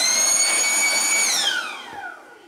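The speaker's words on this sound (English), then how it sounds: "Just blow that out a little bit." Air blasting dust out of a PS4 console makes a steady close hissing rush with a high whine that falls away as the blast tails off.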